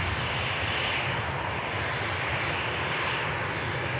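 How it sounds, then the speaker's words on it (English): A TAP Air Portugal Airbus A320 roars overhead near Manchester Airport, a loud, continuous broadband jet rumble that swells slightly as it passes. "This Airbus A320."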